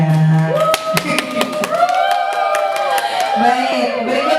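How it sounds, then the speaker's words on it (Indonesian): An audience at a teacher-training session gives a short round of applause, close, sharp individual claps with scattered cheering, while voices and tonal chatter carry on over the clapping. "Tepuk tangan buat semuanya."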